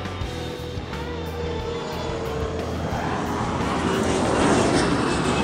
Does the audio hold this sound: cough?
no